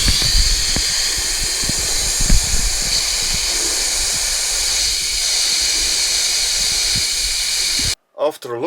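Air escapes from a car tire on beach sand in a continuous close hiss, with a few low knocks underneath, then cuts off abruptly near the end.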